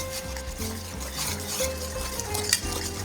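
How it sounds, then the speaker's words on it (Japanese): Dashi being stirred little by little into thick sesame paste to loosen it for a sesame dressing, giving a steady wet scraping and swishing in a bowl, close and fairly loud, with no talking. "お出汁をちょっとずつ練りごまの中に入れながら伸ばしていきます。"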